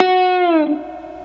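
Electric guitar slide lick from a song: a single sustained note glides downward with rich harmonics, then settles and rings out quietly, played alone up close.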